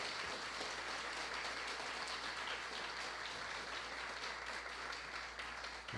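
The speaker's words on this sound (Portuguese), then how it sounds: "uma salva de palmas para todos eles." Sustained applause from an audience at a national strategic committee meeting on child literacy, a steady, faint wash of clapping that holds evenly for several seconds before tapering at the end.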